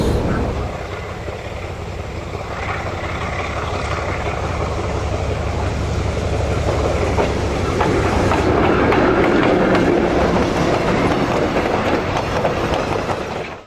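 Southern Railway steam locomotive 6789 hauling a passenger train rumbles past with rhythmic wheel clatter, the loud roar swelling as it draws nearer, with faint voices underneath.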